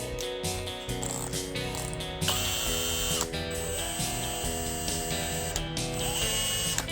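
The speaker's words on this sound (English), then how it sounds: "That drill bit's not going." A worn bit on an electric drill grinds into metal in the frame of a vehicle chassis, giving a harsh, ratcheting whine that stops and restarts in uneven bursts, close and alone.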